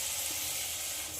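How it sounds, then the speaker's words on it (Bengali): Pre-fried potatoes cooking in oily spice paste in a pan give a continuous, even sizzling hiss that stays steady throughout, close by and with no talking. "মশলার সঙ্গে আলুগুলোকেও কষিয়ে নেব"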